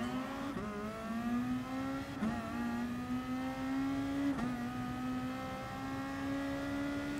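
Race car engines at a race start in Gran Turismo Sport, a loud, close engine note climbing steadily in pitch through several upshifts, each gear change a brief dip before the whine rises again.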